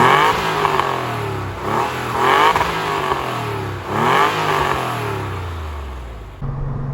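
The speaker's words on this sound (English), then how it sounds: "Beautiful naturally aspirated flat six noise." A 1998 Porsche 911 Carrera S (993) with an air-cooled naturally aspirated flat-six revving, several rising and falling engine sweeps, loud and close, ending with a drop to idle.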